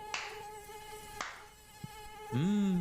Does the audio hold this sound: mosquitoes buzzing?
yes